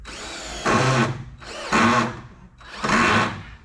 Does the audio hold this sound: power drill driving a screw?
yes